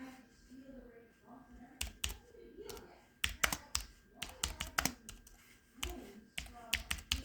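Quick bursts of clicky keyboard typing, close and fairly quiet, with pauses between runs of keystrokes and a faint voice in the background.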